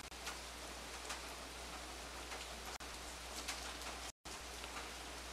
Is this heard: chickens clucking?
no